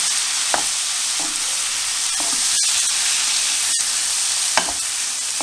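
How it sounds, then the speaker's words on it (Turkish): Tomatoes hitting a hot pan of frying meat and peppers for a Turkish et sote, a steady loud sizzle with a few sharp scrapes and clinks of stirring cutting through. "Domatesi atacağım şimdi. Hemen ardından ufak bir karıştırma ve baharatları atacağım."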